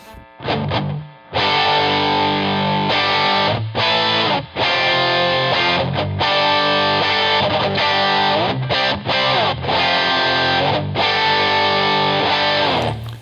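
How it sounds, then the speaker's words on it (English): Heavy distorted electric guitar chords in drop D tuning, strummed loudly and sustained, with brief pauses and muted stops between the ringing chords. "Let's see what this one sounds like with a little distortion."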